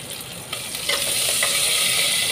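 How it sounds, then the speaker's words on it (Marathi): Ginger with green chillies dropped into a hot pan for dal dhokli, giving a steady broadband sizzle of frying with light stirring scrapes, close and continuous, no voices. "आलं घालायचं आहे."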